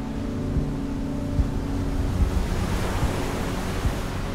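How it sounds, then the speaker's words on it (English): Steady wind rushes across the microphone over a continuous roar of surf breaking on the coast at Land's End, Cornwall, with occasional low buffeting gusts. "It's a bit windy by the coast."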